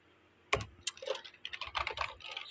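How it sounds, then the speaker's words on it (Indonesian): Typing on a computer keyboard while working in Microsoft Word: a quick run of close, crisp key clicks in irregular bursts, starting with a sharp tap and continuing steadily with no voices. "bisa juga kita langsung ketikkan di sini"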